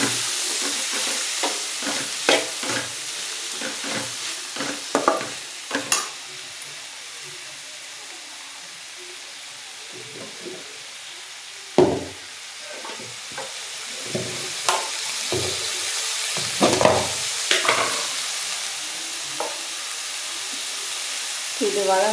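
Coriander leaves sautéing in a pan, stirred in scattered scrapes and clacks over a low steady sizzle, close and moderately loud, with occasional sharper knocks of the spoon.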